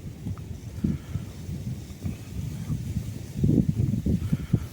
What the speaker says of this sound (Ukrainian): Шквал просто вітру